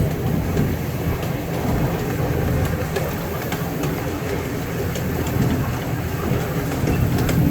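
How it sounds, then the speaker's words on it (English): Iron Horse train ride at Niagara Amusement Park rolling along its track, a loud continuous rumble with engine drone and faint rhythmic clatter heard from on board, no talking. "So this is a pretty long train ride, but it does take you through the entire park here"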